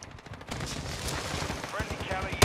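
Video game gunfire crackles in dense, rapid bursts over a noisy battle background, fairly loud and continuous throughout.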